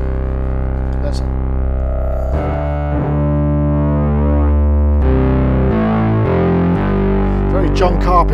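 A Sequential Pro 3 synthesizer, driven hard into its filter with distortion, plays loud, gritty sustained notes that shift pitch in steps.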